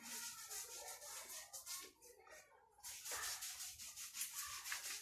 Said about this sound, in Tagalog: maglilid na tayo or para matanggal ang mga libag.